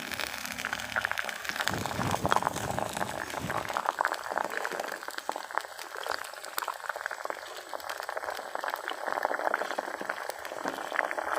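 Green banana slices frying in hot oil for chips, loud bubbling and vigorous sizzling that starts with a burst as the slices go in and continues steadily.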